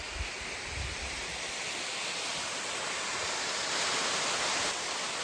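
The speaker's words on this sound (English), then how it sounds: "enjoy this gorgeous waterfall, Cooper Canyon Falls" Cooper Canyon Falls, a waterfall on a hiking trail in the Los Angeles area, pours with a loud, constant broadband rush and no pauses. The roar sounds close, and no one speaks.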